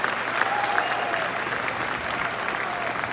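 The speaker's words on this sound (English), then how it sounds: "Let's give a big round of applause to Rowan." Sustained crowd applause at a college football game between San Jose State and Fresno State, steady dense clapping filling the whole stretch with faint crowd noise underneath.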